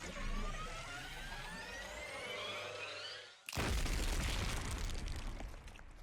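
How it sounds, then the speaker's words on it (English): A bomb detonating inside a character in a gymnasium in The Hundred Line, heard as a sudden loud broadband blast that follows a rumbling, whooshing buildup and holds a sustained roaring echo for several seconds. "A vicious explosion echoed through the whole gym as the bomb inside Ito was detonated"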